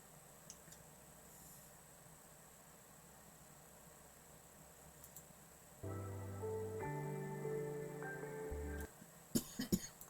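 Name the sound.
coughing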